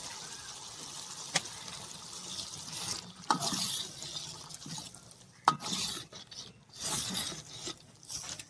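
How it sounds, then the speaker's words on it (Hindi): Water is poured into moong dal in a cooking pot, with splashing and stirring scrapes arriving in irregular bursts, close but fairly quiet against a soft background hiss. "थोड़ा सा पानी डालेंगे उसमें"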